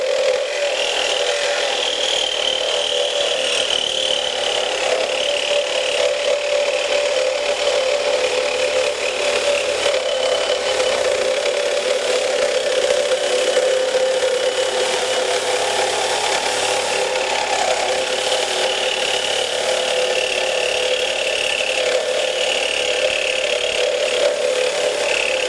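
A Milwaukee M18 FUEL Sawzall cordless reciprocating saw with a 1.25-inch stroke cuts through a piece of metal, a steady, loud, continuous grinding rasp with a high metallic whine held throughout, and no talking.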